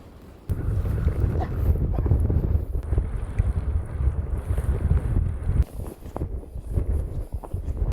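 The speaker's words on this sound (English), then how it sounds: "It is windy, but also lovely." Strong wind on snowy Svalbard during the polar night buffets the microphone in heavy, rumbling gusts that run almost continuously, with a few sharp knocks near the end.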